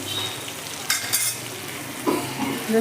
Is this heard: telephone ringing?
no